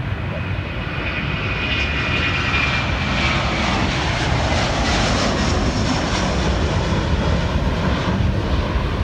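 Delta heavy jet airliner taking off from runway 27 right at Atlanta International Airport, a loud continuous engine roar and rumble that holds steady throughout, with faint radio voices from air traffic control underneath.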